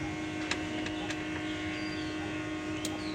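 The air conditioner of a Mercedes-Benz W210 E 230, whose centre vents blow no air, runs as a quiet, steady electrical hum with a few faint clicks over it.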